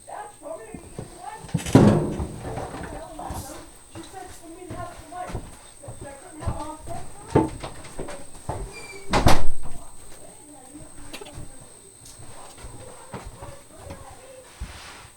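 A door shut indoors during a Christmas centerpiece DIY session lands as one sharp knock amid lighter handling clatter, with voices murmuring in the background.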